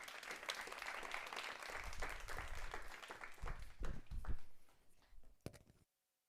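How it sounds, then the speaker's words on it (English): Audience applause at a TEDx event, a dense wash of clapping from a crowd that swells, thins toward the end and stops abruptly into silence. "please, another round of applause for Dennis Lück"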